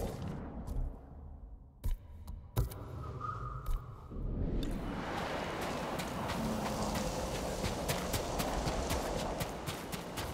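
Sparse, sharp knocks give way to a steady rush of hooves as a horse gallops in, in the video game Ghost of Tsushima, continuous and fairly close through the rest of the clip.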